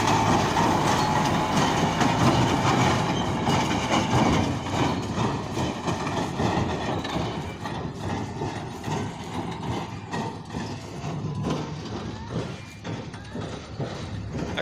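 A straw-collecting baler machine pulled by an imported tractor works in a field, with a loud, continuous mechanical rumble and rhythmic clanking thumps that ease slightly over time.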